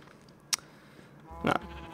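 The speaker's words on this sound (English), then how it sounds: "those are my sheep that I use for wool" Sheep in the Minecraft video game let out a short click followed by a louder nasal bleat close by, with no speech over them.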